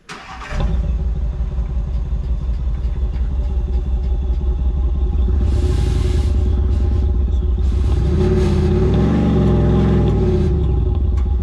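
A Land Rover Defender engine runs steadily with its exhaust note, a loud, continuous idle and rumble that swells in two revving surges midway through, with no talking.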